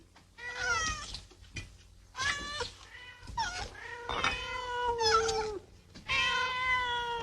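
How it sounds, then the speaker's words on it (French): Several cats meow in a 1977 French film, with a string of loud, drawn-out, wavering meows and caterwauls following one another closely, some overlapping, with no speech. "Mes chats."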